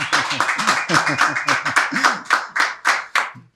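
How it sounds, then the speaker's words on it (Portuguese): Enthusiastic clapping from a talk-show studio audience, loud and rhythmic, with beats pulsing steadily before tapering off at the end. "uma grande salva de palmas"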